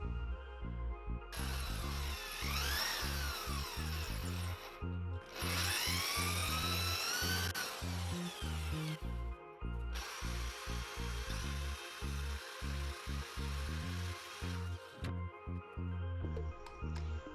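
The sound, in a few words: drilling holes in a wall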